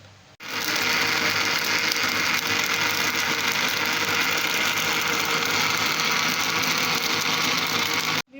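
Electric blender running steadily for about eight seconds, blending falsa berries with sugar, salt and water; a loud, continuous whirring motor drone starts abruptly after a short pause and holds constant until cutting off at the end.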